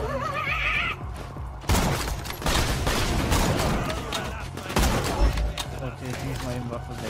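Rapid weapon fire in the video game Borderlands 2, a dense clatter of shots with a few sharper blasts, set against busy game noise and effects.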